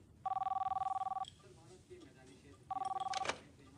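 A telephone rings in two bursts of rapid trilling pulses separated by a pause, with faint voices between the rings.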